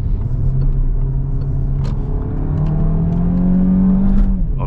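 A Peugeot 3008 with 180 horsepower accelerating hard, its engine note rising steadily and loud from inside the cabin, a continuous rumbling drone with pitch climbing through the gear.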